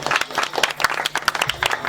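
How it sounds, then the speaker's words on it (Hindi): A church congregation at a prayer meeting breaks into loud, steady applause, dense rapid claps filling the whole short clip with no talking. "जोरदार ताली"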